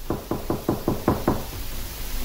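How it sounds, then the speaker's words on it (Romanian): Someone knocks on a door in a London office: six evenly spaced, fairly close knocks, followed by quiet room tone. "Cineva bate în ușă."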